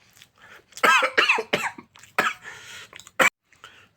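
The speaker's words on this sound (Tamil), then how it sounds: "தொண்டை அப்படி இருமுது" Someone coughs repeatedly and clears their throat in a series of harsh, close bursts while eating cake.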